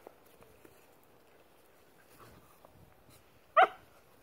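A single sharp puppy bark rings out near the end after quiet rustling and faint shuffling sounds.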